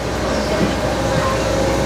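A LEGOLAND Windsor ride train runs with a steady close rumble and hum, continuous and fairly loud throughout.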